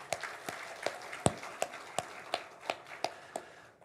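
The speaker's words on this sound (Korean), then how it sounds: "우리 성가대, 우리 반주자들 한번 격려의 박수 한번 부탁드립니다" About ten sharp, evenly spaced claps ring out in a steady rhythm during a church service, fairly faint, with no talking over them.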